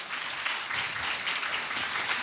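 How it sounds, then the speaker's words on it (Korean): A conference audience claps steadily, a dense patter of many hands applauding, sustained throughout with no voices on top. "큰 박수 부탁드리겠습니다."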